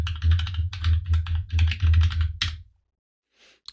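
Rapid clusters of key presses on a computer keyboard as a password is typed at a command-line prompt, close and clear, with short pauses between bursts before it goes quiet.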